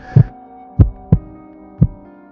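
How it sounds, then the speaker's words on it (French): A recorded heartbeat plays in Christian Boltanski's Heart Pavilion installation in Wulong: four deep, resonant thumps, irregularly spaced over a low hum, loud and close. "c'est une traduction lumineuse du son du battement de cœur"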